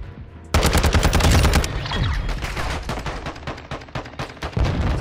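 Loud, rapid automatic gunfire from the video game Modern Warfare 2 in Search and Destroy mode, with dense bursts of shots running almost continuously and no talking.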